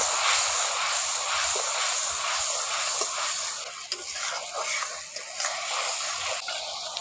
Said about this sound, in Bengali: ওগুলো দিয়ে ভালো করে একটু মশলাটাকে কষে নিচ্ছি